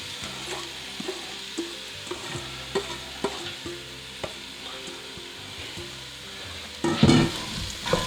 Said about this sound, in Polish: Oliwa już jest widzę gorąca, więc dodaję wszystkie warzywa.